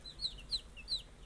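Baby tiger-breed chicks give three thin, high-pitched cheeps in quick succession, faint but clear against a quiet background.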